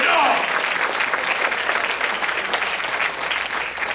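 Church congregation applauding together during a sermon, a loud, sustained wash of clapping that fills the space and holds steady throughout before easing slightly near the end.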